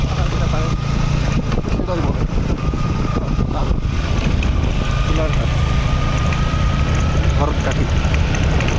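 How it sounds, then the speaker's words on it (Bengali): Steady rushing wind roars over continuous low engine hum, like a boat motor running throughout, loud and unbroken, on the Kaliganga river near Swarupkathi, Bangladesh. "যে নদীর বাতাস"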